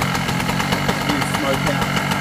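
A generic Chinese two-stroke generator engine runs steadily nearby with a buzzy, rapid pulsing drone and slight rattling vibration throughout.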